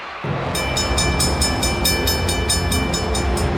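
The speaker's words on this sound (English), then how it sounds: "the railway line switched after the train went past" A cartoon train in the Supa Strikas soccer series rushes past, a loud, continuous rumble that starts abruptly, with regular rhythmic clacks of wheels over rail joints.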